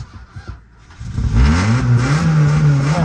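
A car engine turns over on the starter, catches, and revs up to a loud, rising mid-range roar that settles into a steady high idle, close by and with no talking.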